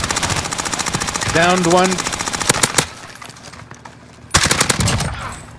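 Video game gunfire while shooting enemies, rapid loud automatic bursts in close repeated volleys, broken by a short pause, with a player talking over part of it.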